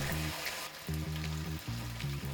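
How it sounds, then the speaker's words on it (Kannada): Rice puri dough frying in hot oil, a close, continuous bubbling sizzle with a few brief pauses and soft clatters, and no voices. "ಎಣ್ಣೆ ಬಿಸಿಗೆ ಇಟ್ಕೊಂಡಿದ್ದೀನಿ ಆಲ್ರೆಡಿ, ಹಾಕೋಣ"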